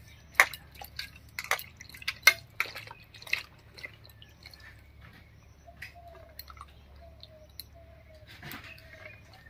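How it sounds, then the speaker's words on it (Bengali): Sliced ridge gourd is washed in water, giving sparse, close drips, small splashes and wet squelches in short irregular bursts over a quiet background hum. "এবার পরিষ্কার করে ধুয়ে নিচ্ছি।"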